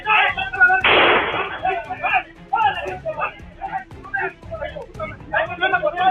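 A single sharp blast rings out, then a few fainter pops, likely shots fired into the air during an arrest in Mexico, with shouting and voices throughout.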